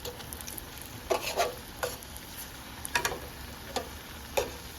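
Onion, potato and brinjal bajji fry in hot oil, a soft steady sizzle broken by a few sharp ticks and scrapes of turning, close by, with no talking.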